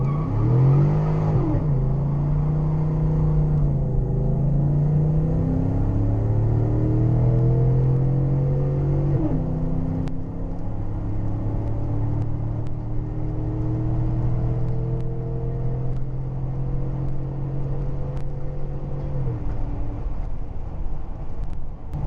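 A tuned car with a Diablosport Trinity tune accelerates hard with the wheels losing traction, its loud engine roaring up through rising revs, briefly dropping, then climbing again before easing off near the end.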